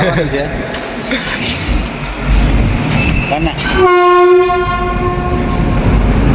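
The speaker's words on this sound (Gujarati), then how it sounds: "આપણી ટ્રેન આવી ગઈ" A train rumbles in loudly nearby at Junagadh, Gujarat, its horn blaring in sustained tones partway through, with people talking over the noise.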